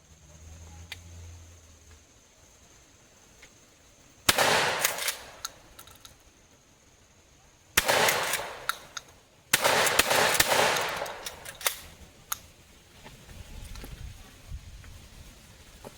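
Remington 870 Fieldmaster shotgun fired in three loud, sharp blasts at irregular intervals, each ringing out with a decaying tail, separated by quieter stretches of handling noise and ambience.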